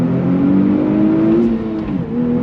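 A 2025 Nissan Z Performance twin-turbo sports car accelerates hard in second gear, its engine note rising steadily and loud, close from inside the cabin, with a brief dip near the end.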